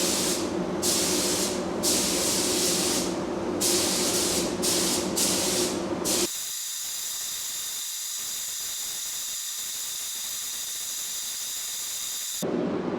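A spray gun hisses loudly in bursts while a second coat of epoxy goes on inside a van, then shifts to a steadier, thinner spray hiss with a brief loud return at the end.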